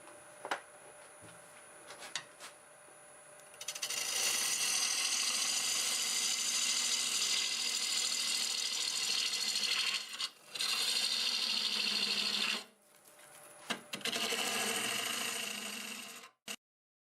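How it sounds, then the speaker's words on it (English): A freshly sharpened 1/2 inch bowl gouge cutting wood on a lathe at about 820 RPM, giving long, loud, hissing scraping passes broken by brief pauses and a few sharp ticks, close and without speech. "I just resharpened my 1/2 inch bowl gouge, and it's running real true at about 820 RPM"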